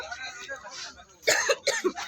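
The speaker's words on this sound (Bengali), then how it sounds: "কাশি হয়েছে নাকি তোমাদের" A few short coughs in quick succession, close by, following some quiet talking.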